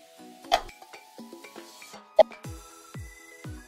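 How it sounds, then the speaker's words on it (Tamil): A spoon scrapes and clinks against a metal pot in a few sharp strikes, with soft stirring and rubbing between them as ground masala is mixed into vegetable salna, close and otherwise quiet. "இந்த மசாலாவை அப்படியே நம்ம கலந்து விட்டுறலாம்"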